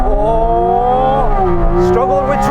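A Porsche 718 Cayman GT4 RS accelerates hard from a launch-control start, its engine wailing loudly and rising in pitch, then dropping briefly at a gear change before climbing again.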